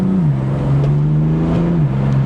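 BMW M4 with the S55 twin-turbo engine and an upgraded crank hub rumbles steadily up close as its turbos spool, a low engine drone that briefly dips and rises, with no talking.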